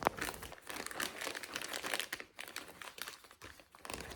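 Close, irregular crinkling and rustling of plastic packaging as a parcel is handled and pulled open, in quick uneven bursts with no talking.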